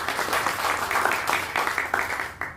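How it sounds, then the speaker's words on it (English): A concert audience applauds as the musicians are introduced at a Saturday evening show: dense, steady clapping close by that holds for the whole span with small surges. "They'll wave and give them a round of applause."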